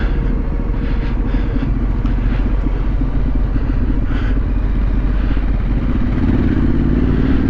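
A trail motorcycle ridden along a green lane, its engine droning steadily with a low rumble and clatter from the ride, loud and close as wind noise buffets the microphone, with no talk.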